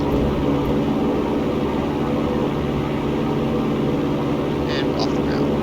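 Steady airplane engine drone in the X-Plane 11 flight simulator as the aircraft lifts off the ground at takeoff, a continuous loud hum with someone talking over it.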